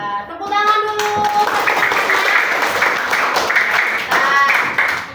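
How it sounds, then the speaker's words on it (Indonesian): A classroom of children clapping together after a teacher's prompt during a civics lesson, a dense burst of hand claps lasting several seconds, with brief tonal sounds at the start and faint kids' voices mixed in. "tepuk tangan dulu"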